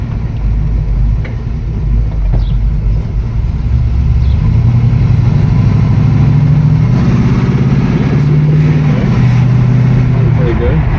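A 1971 Chevy Camaro engine running while driving, a low steady rumble heard from inside the car, loud and constant, with people talking over it.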